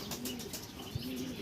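A young blue pigeon coos softly in a low, steady murmur, with faint chirps and a brief wing flutter nearby over continuous background hiss.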